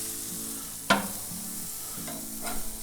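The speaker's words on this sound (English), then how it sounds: "We're gonna give these a quick flip." Green chili cheeseburgers on a Weber Spirit gas grill, with a low background hum and hiss, then a sharp spatula scrape and clack as a patty is flipped, followed by a couple of softer scrapes.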